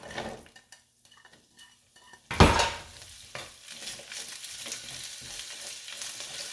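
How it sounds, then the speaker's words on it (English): Medium yellow onion, sliced, sautéing in a tablespoon of olive oil in a skillet for pot roast. Quiet clinks at first, then a sudden loud sizzle burst as the onions hit the pan, settling into a steady crackle with stirring scrapes. "another tablespoon of olive oil into our skillet. And we're going to saute our onions."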